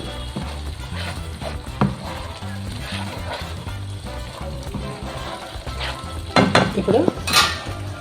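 Egg curry, Godavari style, sizzles in a pan as chopped coriander is stirred through, with a steady fry under scraping spoon strokes and a few louder clinks near the end.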